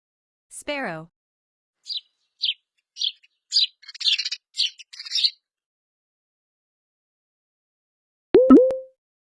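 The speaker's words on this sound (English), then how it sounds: "Sparrow." A sparrow gives a series of short, sharp chirps, spaced at first and then quickening into a rapid cluster, clear and close against silence.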